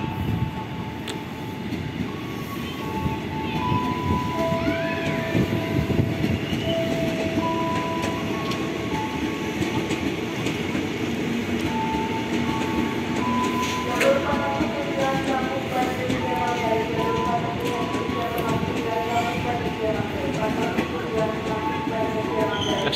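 A JR 205 series train runs through Tambun station with a loud, continuous rolling rumble, wheel clatter and sustained high squealing tones that shift as it passes.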